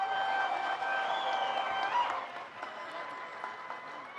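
Crowd applauding at a political felicitation event honoring Raj Thackeray on a party's 19th anniversary, a dense, continuous wash of clapping from a large audience, steady and fairly loud, with a faint tone running underneath.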